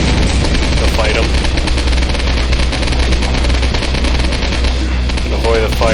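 Rapid gunfire from Postal 2 Paradise Lost, firing continuously and loud throughout, dense bursts layered over game noise with brief voice-like sounds near the middle and end.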